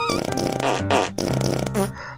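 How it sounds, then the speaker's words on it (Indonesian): Game character in the horror title Last Laugh letting out loud, close farts: a long sputtering, rumbling blast broken by brief gaps, ending in a shorter squeaky burst. "Kita harus kentut sampai 7 kali guys."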